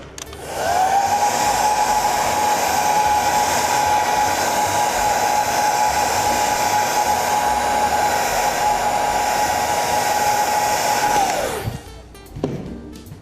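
A hair dryer blows steadily and close on a leather hole repair, a loud even whir lasting about eleven seconds before switching off, followed by a brief handling clatter.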